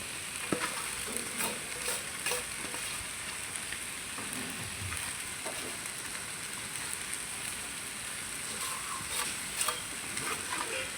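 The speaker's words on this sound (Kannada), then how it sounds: "ಶಾವಿಗೆ ಹಾಕಿದ್ದೀನಿ ಹಾಕ್ತಿದ್ದೇನೆ" Cooked vermicelli (shavige) tossed into a pan for shavige uppittu and stirred, giving a steady soft sizzle with scattered scraping and stirring clicks throughout, close and fairly loud, with no voices.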